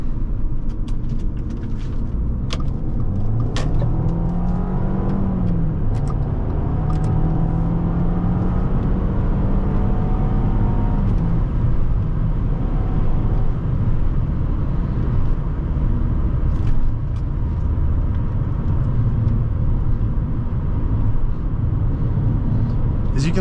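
A 2012 Audi A4 2.0T Quattro pulls hard from inside the cabin, its engine note rising steadily through a gear before settling into a constant road roar, with someone talking over it.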